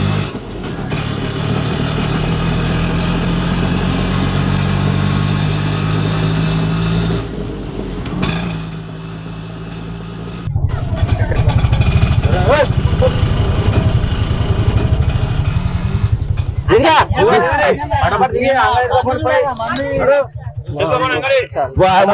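A motorcycle engine revs and drones nearby, pitch rising and falling, while people talk loudly over it later on.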